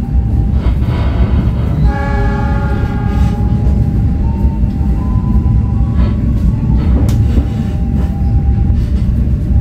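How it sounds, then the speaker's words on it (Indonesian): A loud train rumbles past nearby on Java, Indonesia, while its horn sounds in long, steady blasts over the continuous roar of wheels on rails. "Di depan ini kereta api Jatiluhur habis dilepas."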